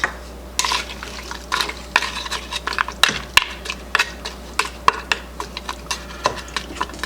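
Vegetable stir fry being stirred into a pot of bean soup, with steady scraping and clinking of a utensil against the pot in a repeating rhythm over a low hum, up close and fairly loud.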